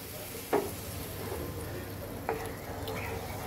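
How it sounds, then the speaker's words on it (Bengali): Water poured into a pan of frying soybean curry brings a steady, close sizzle with a couple of brief sharper hisses and light stirring sounds, and a voice speaks faintly. "এখন আমি দিয়ে দেব ঝোলের জন্য জল"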